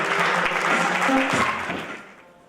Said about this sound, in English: Give another round of applause for Trey.